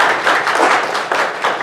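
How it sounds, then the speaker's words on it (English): A workshop audience gives a round of applause, a dense, even wash of many hands clapping together with slight swells, fairly close and unbroken. "Let's give her a round of applause for that."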